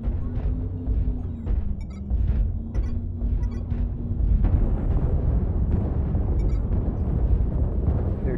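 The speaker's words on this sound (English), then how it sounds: "Artillery strike online." Heavy artillery strike explosions in the video game MechWarrior Online, with deep rumbling blasts that swell and build into a sustained roar, loud and close, over a low droning machine hum.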